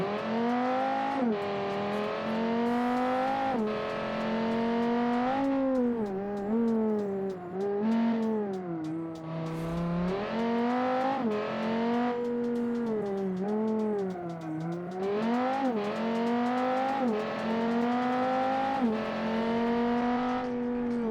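An 8.3-litre V10 car engine in a video game revs repeatedly, rising and falling in pitch in smooth surges, loud and close with a throaty, even drone.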